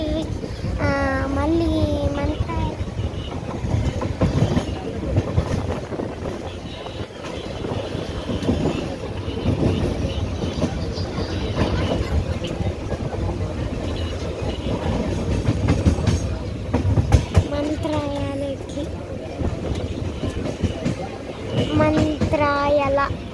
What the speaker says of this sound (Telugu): ట్రైన్లో పోతున్నాను.